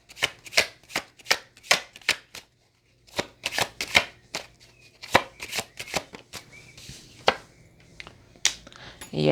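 Tarot cards shuffled by hand in quick riffling bursts, loud and close, with one brief pause before the shuffling resumes in uneven runs.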